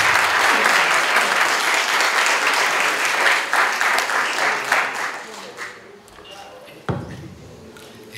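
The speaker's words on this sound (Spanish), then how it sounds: "Les pido un fuerte aplauso" An audience at a university lecture event in Bogotá applauds with loud, dense clapping that fades out over several seconds, followed by a few isolated sounds in the quieting room.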